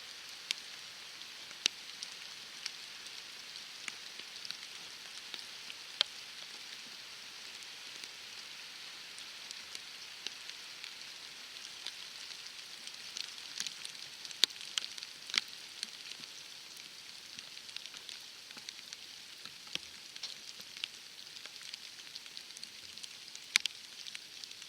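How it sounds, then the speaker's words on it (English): Steady light rain patters on the ground and vegetation in the open during a blacktail deer hunt in Oregon, a faint even hiss with scattered soft drops throughout. "Getting wet with the rain sitting here is miserable"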